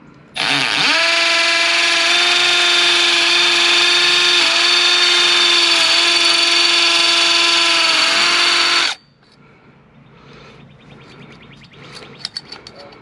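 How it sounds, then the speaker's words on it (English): A hammer drill bores into a masonry wall to mount a hose reel, a loud, steady, close whine with rattling hammer action for about eight seconds, then stops abruptly, leaving quiet handling noise. "make sure you have it on the hammer function."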